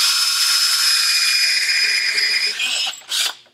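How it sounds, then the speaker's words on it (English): A power drill whines steadily at high pitch for a few seconds while drilling into melamine board, then stops, followed by a short final burst of drilling. "start drilling"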